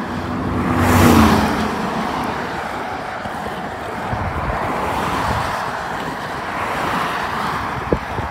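Traffic on Highway 76 through Bonsall: one vehicle whooshes past close by near the start, then a steady roadway rumble with wind-like noise continues, no speech.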